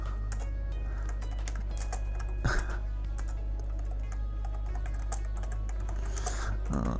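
Rapid, steady typing on a computer keyboard while chatting during an online game session, close and continuous for the whole stretch over a low background hum, with no speech.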